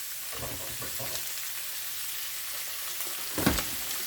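Meat for a low-carb Philly sizzles loudly in a hot pan, a dense steady crackle with a few brief clanks and stirs, no voices.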